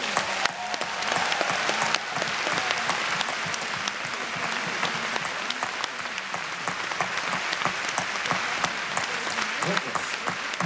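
Concert audience applauds at a performance, dense continuous clapping with sharp individual claps, while a voice speaks over it at times.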